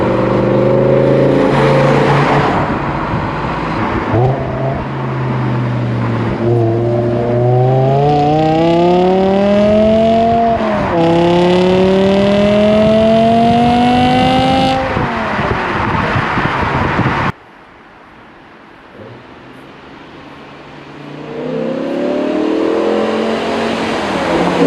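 A naturally aspirated 5-liter V10 car engine revs hard through several climbing gears, loud and close with strong induction and exhaust tone, then cuts to near silence before a softer rev returns near the end.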